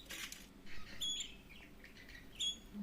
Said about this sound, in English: the young fledgling is excitedly wagging with his wings